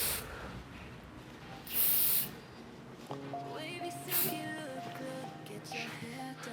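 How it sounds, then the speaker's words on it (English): Light mist of hairspray applied to freshly blow-dried hair in a salon, two short hissing bursts standing out over quiet background chatter and salon noise. "I'm just gonna do light spray to hold this"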